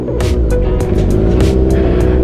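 A Kawasaki Ninja 1000 motorcycle is ridden with its engine droning loudly and close, the pitch holding fairly steady while sharp bursts of wind or road noise cut in repeatedly.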